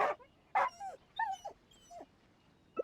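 Dog in the video game Genshin Impact giving a few short yips and barks followed by soft, rising whimpers, spaced out with brief pauses, fairly quiet and close.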